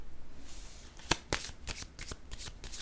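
Playing cards being handled and laid down on a table, a run of quick papery flicks and snaps with a few sharper slaps, close and fairly quiet, with no voice over them.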